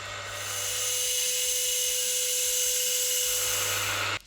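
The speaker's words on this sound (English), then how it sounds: "drill the part for an M3 thread" A drill bit bores a small hole for an M3 thread in a part held in a dividing head while making a scribing tool, giving a steady, loud high-pitched whine that runs continuously and cuts off at the end.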